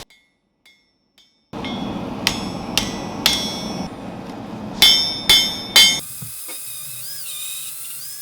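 A hand hammer strikes a Damascus steel ulu knife blade over the anvil horn, a few sharp metallic rings at first, then a string of spaced, ringing blows under a steady background hiss, the last strikes loud and close.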